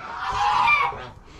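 Geese honking in a short, loud burst of overlapping nasal calls from a backyard flock at night, close by and with no talk over them.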